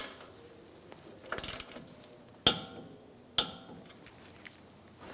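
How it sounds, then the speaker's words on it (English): A torque wrench ratchets and clicks sharply on a tie rod jam nut of a 2009-2013 BMW 328i xDrive, with a quick burst of ratcheting followed by two distinct metallic clicks, close up in a quiet garage. "We're going to torque this to 29 foot-pounds."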